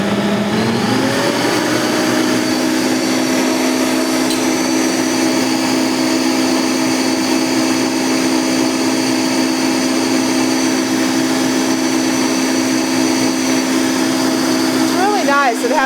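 A stand mixer, KitchenAid Professional 600 or Bosch Universal, whipping egg whites with cream of tartar toward soft peaks, a loud, steady motor whine with a constant hum, close and continuous for the whole stretch.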